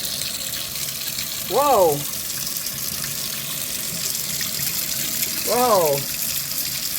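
Water runs steadily from a kitchen faucet after a removed piece was cleaned, a continuous close hiss and splash throughout, with a voice exclaiming briefly twice.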